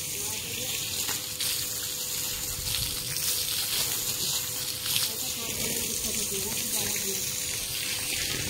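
Tap water runs while a pet dog is bathed, a continuous soft gushing that sits fairly quiet and steady under faint background noise for several seconds.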